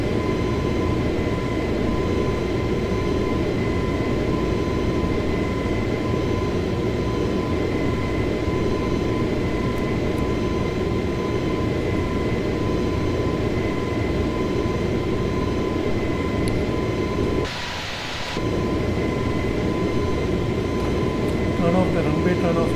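An Airbus A320neo of SriLankan in Microsoft Flight Simulator roars at takeoff thrust, a loud sustained jet drone with steady tones, dipping briefly near the end before resuming.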